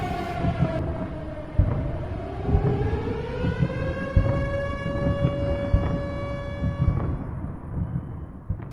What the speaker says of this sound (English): And the siren would go